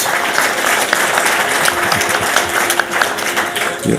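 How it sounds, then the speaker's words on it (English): Loud, sustained applause from a large crowd at a World Economic Forum panel in Davos fills the room, dense clapping continuing throughout without a break. "you're almost getting as much applause as the Ukrainian soldiers."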